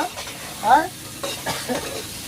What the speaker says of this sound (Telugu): ఉల్లిపాయలు అయితే ఎర్రగా ఎగుతున్నాయి